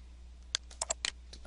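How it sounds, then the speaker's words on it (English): A computer mouse clicks while someone works in a text editing program: about half a dozen quick, crisp clicks, close and fairly quiet, with short gaps between them over a faint steady background and no talking. "we left click where we want to begin typing"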